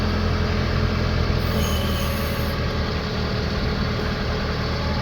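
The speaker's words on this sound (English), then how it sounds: "We just up the revs a little bit." Diesel engine of a Branson F Series tractor fitted with a BH150 backhoe, steady and loud at close range, holding a raised, even rev with no talk over it.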